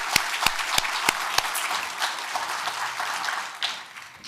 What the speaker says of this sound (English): Let's give our female superheroes another round of applause